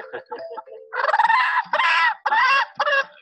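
Hens in an organic free-range henhouse cluck and cackle close by, with soft low clucks first, then a run of loud, drawn-out squawking calls in several bursts.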